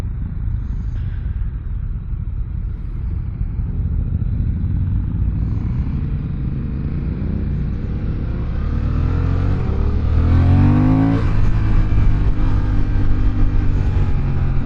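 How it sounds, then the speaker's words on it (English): A Honda CB750 Hornet two-cylinder motorcycle engine accelerates through the gears, a steady close rumble that climbs in pitch and swells louder toward the end. "Every time you switch gear and you give it a little push on the throttle handle, it goes yo yo yo."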